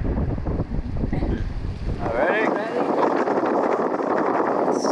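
Strong wind buffeting a boat at sea, heavy gusting roar and microphone rumble that gives way to rushing hiss, with a brief spoken remark partway through.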